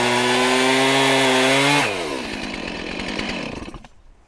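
Chainsaw revving loud and steady as it bites into a muddy log, the engine note dropping sharply as the bar drags through dirt-caked wood, then fading out as the cut finishes.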